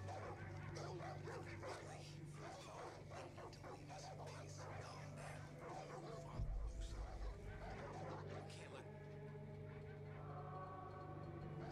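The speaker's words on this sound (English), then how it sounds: "Lots of dogs." Dogs bark and yip repeatedly throughout Far Cry 5 gameplay, mixed into a dense game soundscape with a steady low hum and a brief heavy thump near the middle, while someone talks over much of it.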